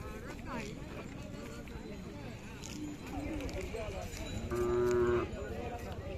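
Khillar cattle lowing at a crowded livestock fair, a sustained moo rising near the end over constant crowd chatter and bustle, with people talking throughout.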